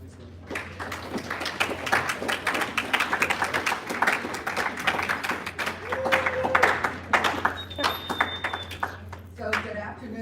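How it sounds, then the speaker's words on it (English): An audience at a student government town hall applauds for Dr. Dukes, producing a dense wash of clapping that fills most of the stretch with a steady, moderate level. A voice speaks over the applause. "can you please give a round of applause to Dr. Dukes?"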